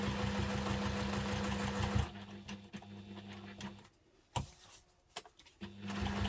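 Sewing machine basting a seam on a messenger diaper bag with a small seam allowance: a close, fast rhythmic stitching hum for two seconds, then quieter handling clicks and rustles before the machine starts again.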